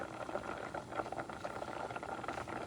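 Water and rice bubbling in a pot for Puerto Rican-style rice with ground beef: a soft, quiet, continuous burble of boiling with small irregular pops, nothing else heard.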